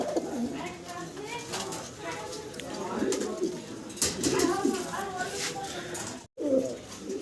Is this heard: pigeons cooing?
yes